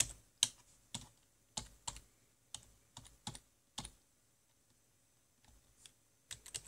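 Quick bursts of key clicks on a computer keyboard while working in Roblox Studio, close and fairly quiet, coming in uneven clusters with a short pause partway through.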